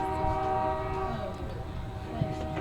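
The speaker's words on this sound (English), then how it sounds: "And you might be hearing another train in the distance." A distant train sounds its horn near a baseball field, a sustained tonal blare carried over faint rail rumble, fading slightly toward the end with a brief thump; a commentator's voice is present.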